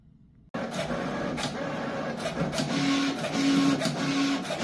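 A cutting machine scores lines into printed paper for a gift bag, a steady mechanical whir with a repeated tonal whine as the tool moves up and down, close and continuous after a brief quiet start.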